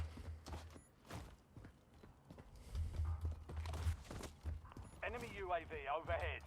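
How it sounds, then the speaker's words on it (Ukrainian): Footsteps of the player's own character in the shooter game Warzone, set in Verdansk, thud in a steady walking rhythm close up and fairly loud, with game ambience and a voice talking over them. "Свої кроки такі гучні."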